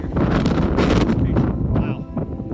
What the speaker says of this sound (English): Wow, it's kind of cold. The wind blowing.